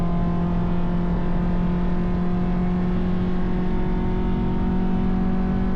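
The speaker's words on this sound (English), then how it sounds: "back on the throttle, row up the gears" A race car on a short, technical circuit accelerates hard back on the throttle and works up through the gears, its engine a loud, steady droning roar held close and continuous throughout.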